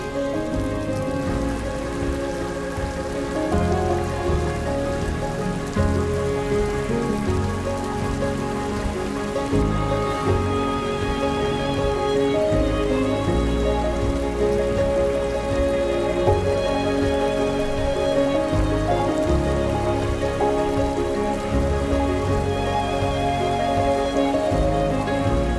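Steady rain falls on a forest path on the way to Sheshpagar Waterfall in Gariaband, a dense, even patter of drops on the ground and leaves that holds at a constant loud level throughout, with no voices.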